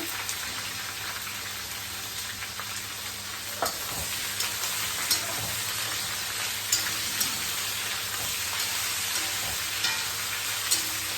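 Onions frying in hot oil for mutton biryani give a steady, dense sizzle throughout, with occasional soft clicks of stirring near the pan and no talking.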